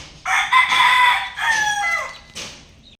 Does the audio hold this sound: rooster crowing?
yes